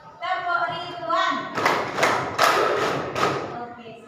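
Classroom clapping routine with children: a short spoken lead-in, then several sharp, loud group claps in a patterned rhythm with brief pauses between them.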